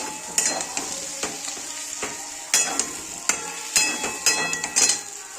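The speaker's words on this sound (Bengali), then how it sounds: "এবার মশলাটা ভালো করে কষিয়ে বাঁধাকপিটা দিয়ে দেবো।" Spice masala and cabbage are sautéed in a pan, a soft sizzle broken by sharp clacks and scrapes of a spatula against the pan in uneven strokes, close and clear with no one talking.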